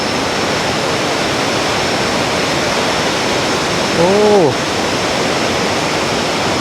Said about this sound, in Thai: เข้าไปใกล้กับจุดน้ำตกตึม